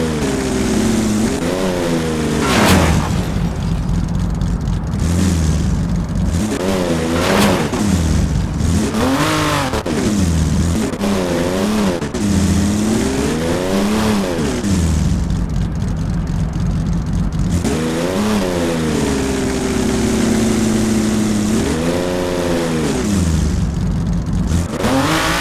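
A limousine tearing along in a driving video game, its engine revving up and down in repeated surges, loud and close throughout with no talking.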